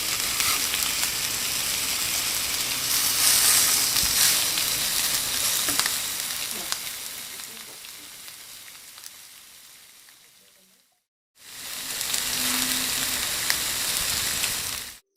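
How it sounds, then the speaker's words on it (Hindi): Rohu fish pieces sizzle in a little oil on a greased griddle over low heat, a steady hiss that fades gradually, cuts out briefly, then returns at full strength. "फिर इस पर फिश पीसेस रखकर 2 मिनट तक हल्की आंच पर एक तरफ से पकने देंगे।"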